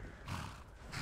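A horse in Skyrim lets out a short, close neigh, a brief breathy whinny that rises and falls over about a second, with no talk.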